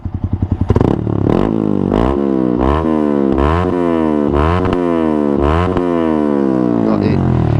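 A Yamaha R15 V3 motorcycle fitted with a Ronin Hanzo exhaust in racing mode barks and revs repeatedly up close, each blip rising sharply then dropping, with a rough, aggressive rasp.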